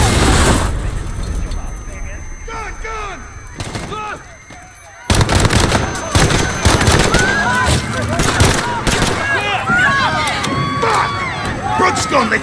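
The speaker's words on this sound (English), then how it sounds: "Shots fired." Gunfire in the video game Call of Duty Modern Warfare: rapid bursts and heavy shots crackle through chaotic shouting, with a brief quieter lull before the firing surges back louder and continues under urgent voices.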